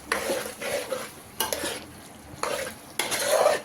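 A spoon stirs gongura chicken curry in a pan after coriander powder goes in, giving bursts of scraping strokes roughly every second over a soft sizzle, close up with no voices.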